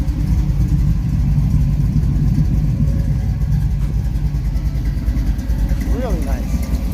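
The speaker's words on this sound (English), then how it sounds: "listen to that engine purr" A 1969 Chevy Nova coupe with headers and dual exhaust idles with a deep, steady rumble close by, a low throbbing burble holding level throughout.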